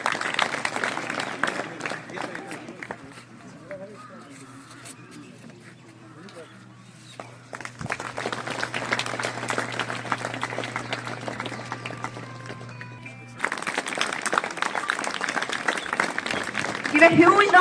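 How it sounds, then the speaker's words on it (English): Applause from an audience at a farewell ceremony, dense clapping that dips to a quieter stretch, then returns and swells loudly toward the end, with a steady low hum running beneath. "Give a huge round of applause, guys."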